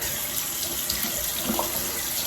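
Shower water running steadily onto a face during an evening skincare routine, a continuous close splashing hiss with no talking.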